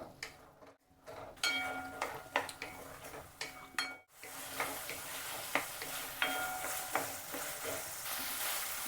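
A wooden ladle knocks and scrapes against a pan while stirring spicy raw tomato chutney, giving a run of irregular soft clacks over a low, continuous sizzle.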